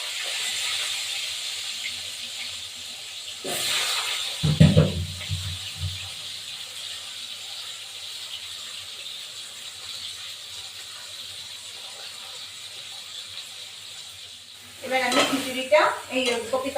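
Potatoes with a little salt sizzle steadily in hot oil in a home kitchen, a soft continuous frying hiss broken by a few louder stirring clatters of the pan.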